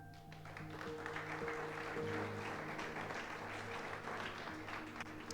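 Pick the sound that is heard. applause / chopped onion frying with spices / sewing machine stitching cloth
applause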